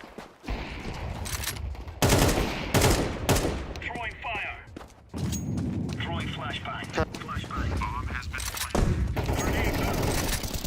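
Bursts of rapid AK rifle fire in a video game, loud and close, repeating in several volleys with brief pauses, alongside scattered game sounds and some voices.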